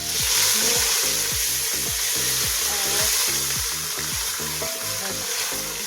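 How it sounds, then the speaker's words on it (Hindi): Mixed vegetables with raisins and coconut frying in a pan, a loud continuous sizzle close by under a rhythmic series of spatula scrapes and knocks against the pan. "थोड़ी देर के लिए फ्राई करना है, जब तक सब सब्जियों का कलर एक जैसा नहीं हो जाता"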